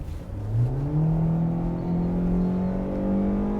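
A 2025 Kia K4 compact car's base engine revs up steadily, its pitch climbing smoothly and then holding a strong, even drone close by.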